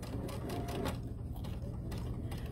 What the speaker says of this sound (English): And I just keep sewing until I get to that circle on my foot.